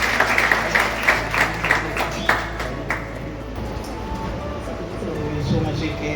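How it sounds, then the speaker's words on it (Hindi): A church congregation claps to welcome a guest speaker, with rhythmic loud claps in the first half that fade into a softer murmur of voices and room noise. "हम सब तैयार हो गए यीशु मसीह के नाम पे तालियां बजाकर उन्हें स्वागत करेंगे"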